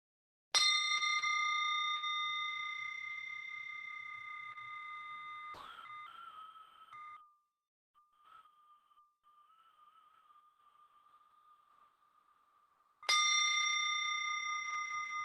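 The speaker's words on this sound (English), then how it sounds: "focus your mind to this bell sound and follow the sound" A meditation bell at a Buddhist center is struck twice, each strike a bright, clear ring with a long, slowly fading sustain; a faint lingering hum fills the gap between the two strikes.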